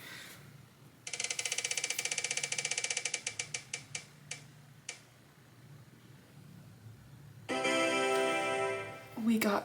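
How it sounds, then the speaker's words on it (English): A spinning color wheel clicks rapidly against its pointer, the ticks slowing and spacing out until it stops, followed by a person speaking. "Let's let the wheel do its job."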